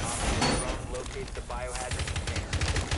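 Rapid automatic gunfire rattles in Rainbow Six Siege, dense bursts of shots repeating throughout, with voices talking over the shooting.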